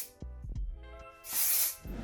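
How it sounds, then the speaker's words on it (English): A short burst of Foxy Bay volumizing hairspray from an aerosol can, a close, loud hiss lasting about half a second after a few light handling clicks and taps. "So I'm gonna use Foxy Bay's volumizing hairspray."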